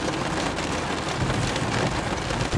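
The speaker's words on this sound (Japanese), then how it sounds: "雨が降ってきましたね" Heavy rain pours down at a car wash after a car has just been washed, a dense, loud, continuous hiss and patter of drops striking surfaces, steady from start to finish with no voices.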